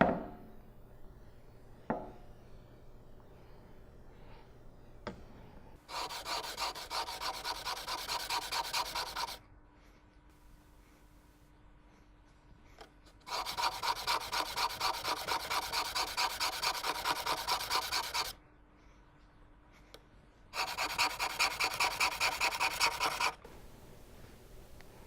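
Gasket scraper blade bevel rubbed back and forth on abrasive grit in three long bursts of steady, even strokes, close and clear, separated by quiet pauses.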